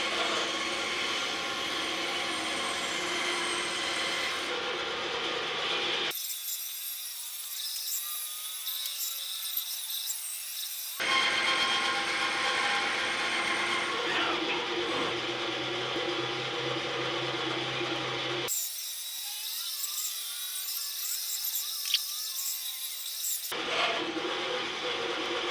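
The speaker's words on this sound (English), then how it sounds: "then I'll get around to cutting them out on the bandsaw" A bandsaw whines steadily as it cuts toy shapes from scrap wood, in long passes broken by two spells where the blade runs with the low end dropping away.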